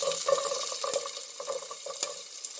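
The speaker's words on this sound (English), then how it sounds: "now I'm going to cook my veggies" Onions and other vegetables fry in a little meat grease in a pan. A close, steady sizzle runs throughout, with sharp clicks and scrapes of stirring now and then.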